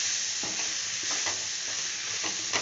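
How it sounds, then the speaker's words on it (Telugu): A spoon stirs spice powders into Indian-style macaroni in a hot pan, producing soft repeated scraping strokes over a loud, constant sizzle of frying, with no talking. "ఈ పొడులన్నీ వేసి కలుపుతుంది. ఇలా బాగా కలిసేంత వరకు కలుపుకోవాలి."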